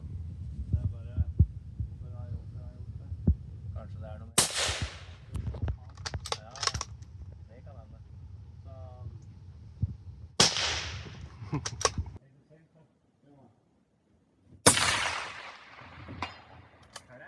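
Rifle shots at a long-range shooting site in Norway, several sharp cracks spaced seconds apart over a low steady hum.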